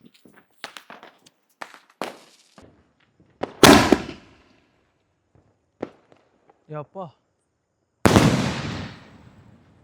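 A Diwali double-shot firecracker bursts twice outdoors, two loud sharp blasts several seconds apart, each trailing off in a crackling decay, with scattered footsteps, clicks and brief voices between them.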